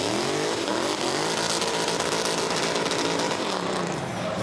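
A drift car powered by a supercharged Toyota V8, a Tundra-derived engine, screams at high revs during a drift competition, a loud sustained wail with rising and falling pitch sweeps and no talking.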